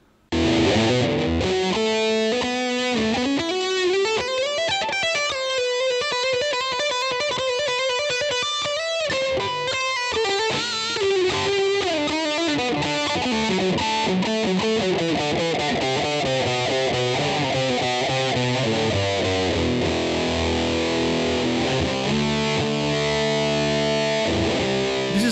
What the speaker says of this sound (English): it gives you that fatter distortion tones and focuses more on the mid-range and increased in touch response, giving you that high gain feel